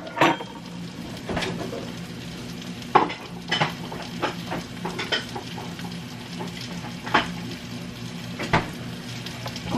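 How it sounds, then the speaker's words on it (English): Butter sizzling in a pan, a low steady crackle under repeated scraping and clinking of a utensil against the pan. "I'm going to put maybe 2 tablespoons of butter in this pan."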